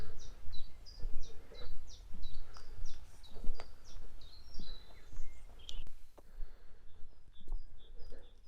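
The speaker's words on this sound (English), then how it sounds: "just to see if we can pick up the sound of the birds" Woodland birds sing near Headcorn in short repeated chirps and trills, some close and some more distant, over a low outdoor hum and with no talking.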